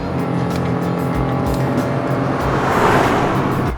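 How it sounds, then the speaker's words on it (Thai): A 2020 Nissan Almera with a CVT transmission revs its engine under acceleration, a steady loud drone that swells toward the end with no talking over it. "ผมชอบเสียงเครื่องของรถคันนี้มากคือลองเหยียบเข้าไปแล้วเนี่ยรู้สึกสนุกและก็แอบจักรจี้ดี"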